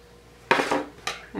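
A spoon folds powder into meringue in a bowl, giving two short, close scraping clatters against the bowl's side, with no talking.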